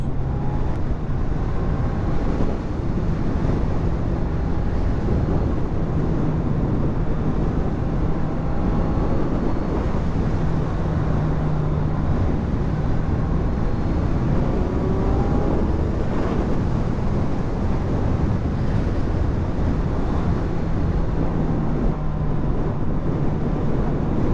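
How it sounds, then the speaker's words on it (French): A Kawasaki Z900 motorcycle engine drones steadily at high revs, its pitch rising and falling slightly, mixed with heavy wind rush throughout. "Je fais exprès de monter un peu haut dans les tours"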